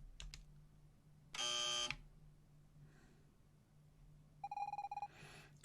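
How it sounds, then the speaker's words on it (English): A game buzzer in Evoland 2 sounds as a short, bright electronic tone, followed moments later by a second burst of rapid pulsing beeps, both faint over a quiet low hum. "When you hear the buzzer, move to the left."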